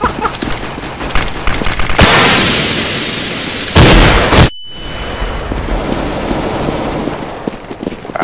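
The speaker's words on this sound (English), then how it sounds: "Wow, that flashbang." Flashbang grenade in Counter-Strike: Global Offensive, a loud bright burst followed by a sudden cut to near silence and a high ringing tone, set amid close gunfire bursts.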